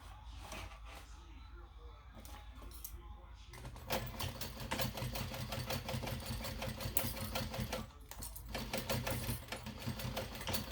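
A sewing machine stitches fabric for a Dayna Pack bag, its fast needle chatter coming in bursts of steady mechanical rattle, louder after a short quieter start, with brief pauses between runs.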